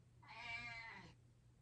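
A single drawn-out cat meow lasting about a second, clear and fairly close, with quiet room background before and after and no one talking.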